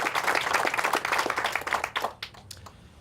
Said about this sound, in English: that's worth some applause there